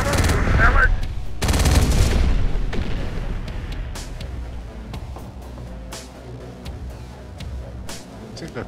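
Machine gun fire in the Terminator: Dark Fate - Defiance strategy game comes in loud sustained bursts at first, then thins to scattered single shots and booms further off.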